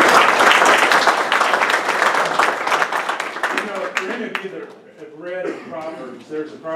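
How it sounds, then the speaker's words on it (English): An audience at a business gathering breaks into loud applause for several seconds; the clapping then fades and a voice starts speaking. "Give him a round of applause."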